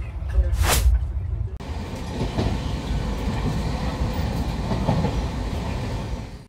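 A Rajdhani Express from Kolkata to Delhi runs on its rails, a loud steady rumble and rattle heard from inside the coach, with a short whooshing burst at the start.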